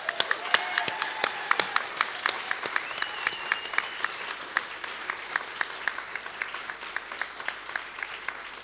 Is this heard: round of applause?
yes